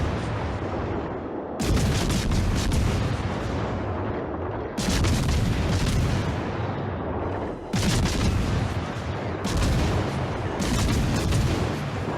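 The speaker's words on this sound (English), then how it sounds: "As soon as I can get Rune in range, I also start to shoot her" Heavy warship main guns fire shells in World of Warships: Legends, loud booming salvos recurring roughly every three seconds, each with a sharp onset and long rumbling decay, alone without talk.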